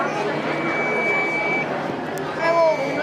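A steady electronic buzzer tone from a model railway-crossing train warning alarm at a school science exhibition sounds continuously under close conversation, with voices talking over it throughout.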